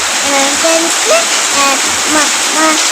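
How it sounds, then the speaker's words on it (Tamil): Heavy rain pours outside during a thunderstorm, a loud, unbroken roar of falling water, while voices talk over it. "இடியுடன் கூடிய கனமழை பெய்கிறது."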